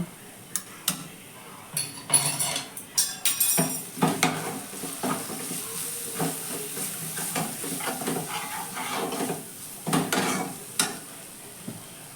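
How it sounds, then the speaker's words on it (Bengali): Spice paste with turmeric and chilli powder being stir-fried in a pan for a lote fish curry, with brisk spatula scrapes and knocks against the pan over a steady sizzle, close and fairly loud. "আমি আবারও ভালো করে মশলাটা কষিয়ে নিব"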